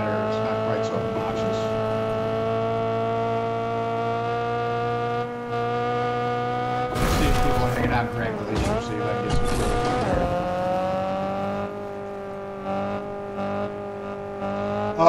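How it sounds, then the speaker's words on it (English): Car engine in the Fortnite video game, a steady harmonic drone with rising and falling pitch as it drives, a burst of rough noise midway, continuous and fairly loud under a quiet voice. "Okay, I like the sound of this car better."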